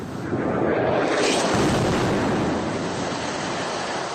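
Building in Gaza collapsing after an airstrike, a continuous roaring rumble of debris filling the whole clip, loud and steady with wind-like noise and no voices.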